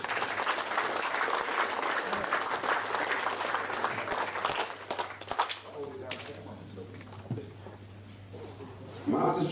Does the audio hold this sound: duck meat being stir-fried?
no